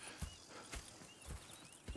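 Horses in the video game Red Dead Redemption 2, soft muffled hoof clops at an even walking pace, faint and close over a hissy background.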